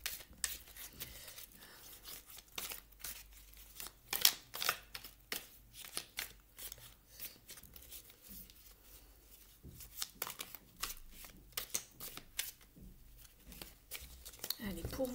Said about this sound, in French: Je remélange un petit peu les cartes.